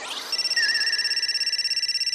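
Telephone ringing with a steady electronic ringtone, a sustained high warbling tone that pulses rapidly and stays loud and close for the whole stretch, with no voices over it.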